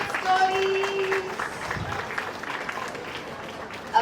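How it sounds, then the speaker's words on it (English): Light applause from a small audience after a storytelling session for children, soft and continuous with faint chatter and a brief tone mixed in. "Let's clap for Grandma and her pumpkin stories."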